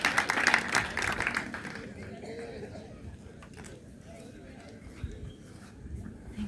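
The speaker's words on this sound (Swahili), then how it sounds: "Mpike makofi Madam kama anakuja." An audience at a teachers' training college graduation ceremony claps in a short burst of applause that fades after about two seconds. Quieter room noise and murmur carry on afterward.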